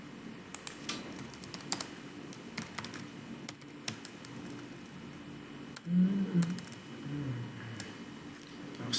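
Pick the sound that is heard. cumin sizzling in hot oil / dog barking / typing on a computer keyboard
typing on a computer keyboard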